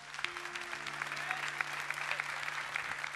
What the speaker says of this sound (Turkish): Efendim orkestrama da kocaman bir alkış rica edeyim.